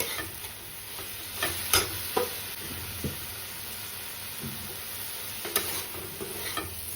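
Greens cooked with potato are stir-fried in a pan, with a steady close sizzle and hiss. A spatula scrapes and clinks against the metal at irregular moments.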